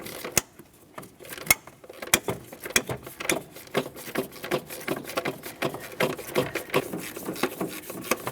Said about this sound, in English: We'll be removing this by using a 12mm.